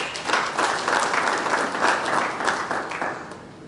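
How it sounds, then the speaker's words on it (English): A meeting audience at an executive committee gathering breaks into sustained applause, a dense continuous wash of many hands clapping steadily before tapering slightly at the end. "Can we give him another round of applause?"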